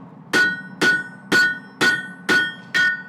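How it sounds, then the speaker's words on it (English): Six evenly spaced, ringing hammer strikes on metal, a steady clanging about every half second, close and clear with no talking over them, as the hammer skips across peen marks in a shop. "So just skipping this hammer"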